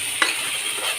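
Ginger garlic paste frying in a hot pan, a faint steady sizzle with a brief stirring scrape early on, close and alone with no talking.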